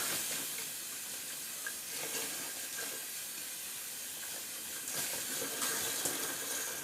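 Tap water runs steadily over a synthetic shaving brush knot as it is rinsed, a constant hissing splash close by with slight swells in flow and no talking.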